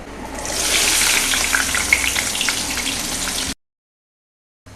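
Onion and ginger dropped into hot oil in a pan, a loud hissing sizzle that swells quickly and holds steady for about three seconds, then cuts off abruptly into silence, with no talk.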